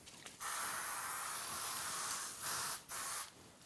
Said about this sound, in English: you're going to want to spray this or butter this paper, okay? I'm using a olive oil extra virgin.